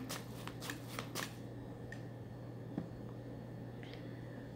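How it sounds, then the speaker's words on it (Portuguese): A deck of cards is shuffled close by, with a quick series of riffling flutters at the start, followed by quiet handling and a faint hum beneath. "Vamos embaralhar o segundo monte."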